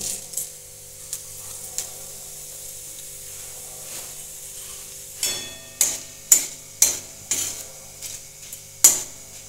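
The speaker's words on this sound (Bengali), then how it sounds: "এখন কড়াইয়ে দিচ্ছি একটা তেজপাতা, একটা শুকনো লঙ্কা আর দুটো জিরে।" A bay leaf, a dried chilli and cumin hit hot oil in a wok while cooking a paneer dish, giving a faint sizzle that breaks into a run of sharp, crisp crackles and pops.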